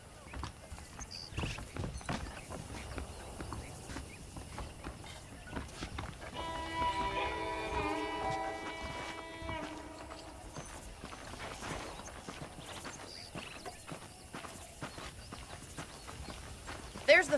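Horse hooves clip-clop at a walking pace in Red Dead Redemption 2, a steady rhythm of close hoof falls under ongoing game sounds, with a brief tonal chime in the middle.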